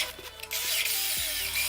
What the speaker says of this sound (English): And I have used this drill a lot now, but it still holds up pretty good.